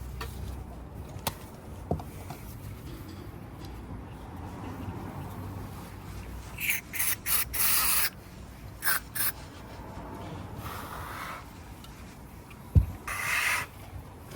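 Electrical connector cleaner is sprayed onto a car tail light connector in a few short hissing bursts, soft and close, with quiet handling noises and faint rustling between sprays.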